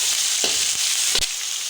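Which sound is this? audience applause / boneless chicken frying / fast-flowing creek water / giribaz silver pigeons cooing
boneless chicken frying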